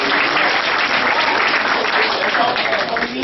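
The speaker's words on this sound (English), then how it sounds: "Give her a round of applause." An audience at a guest-speaker event gives loud, dense, continuous applause that fills the whole moment, with a voice talking over the clapping.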